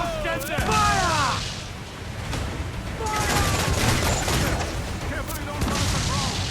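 Ship cannons firing in a naval battle in Assassin's Creed IV Black Flag, a dense rolling volley of booms and crackling blasts over several seconds, loud and continuous, with shouted crew voices over it.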